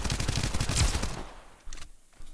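Gunfire in the video game Escape From Duckov, a rapid, close burst of automatic shots lasting about a second before cutting off abruptly, followed by a couple of fainter pops.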